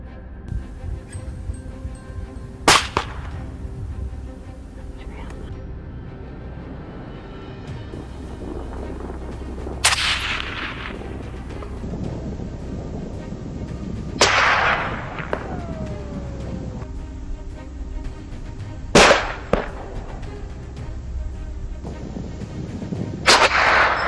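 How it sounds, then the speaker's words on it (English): Four or five sharp gunshots crack out several seconds apart, each echoing off into the distance over a steady low background rumble. "the sharp cracks of gunfire from my teammates echoed in the distance"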